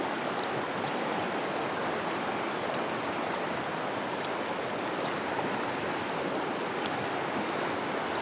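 A river current rushes steadily and loudly while someone fishes for smallmouth bass, a dense, continuous wash of moving water with no break and no talking.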